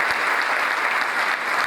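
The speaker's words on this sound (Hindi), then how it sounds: "निश्चित रूप से उनके लिए भी आप एक बार ताली बजा के समझिए" Audience applause fills a spiritual gathering hall at Sri Sathya Sai Sowbhagyam in Naya Raipur, a steady dense clapping from a large crowd lasting under two seconds with no voices over it.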